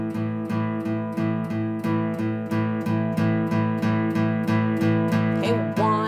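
An electric blues guitar chugs a steady straight eighth-note rhythm, every strum a downstroke, evenly spaced, driving and close, with no voice over it.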